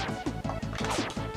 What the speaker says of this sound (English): Yeah, smashing the clouds.